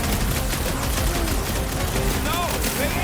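Rapid, continuous gunfire from the PS5 game Guardians of the Galaxy, a dense fusillade of shots and blasts running loud throughout, mixed with game effects and voices.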